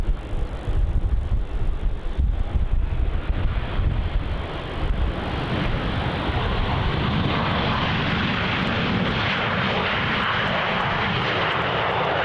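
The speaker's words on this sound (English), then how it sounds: "It's Virgin Australia flight VA824 coming in from Sydney" Virgin Australia Boeing 737, flight VA824 from Sydney, arriving at Melbourne Airport: a loud jet roar that swells and shifts in pitch as the airliner passes, with wind buffeting the microphone.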